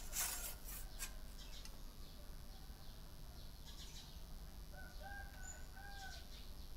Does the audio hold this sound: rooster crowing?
yes